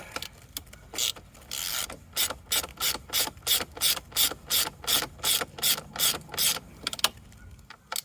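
A hand ratchet clicks in a steady rapid run of about a dozen strokes while the aircon radiator is removed from a Mini Cooper R50, close and crisp, with no talk over it.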